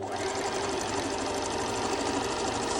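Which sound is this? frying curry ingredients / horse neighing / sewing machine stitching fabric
sewing machine stitching fabric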